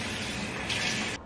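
Tap water running steadily from a faucet as a dirty makeup sponge is rinsed under it, a loud, even splashing gush that cuts off just before the end.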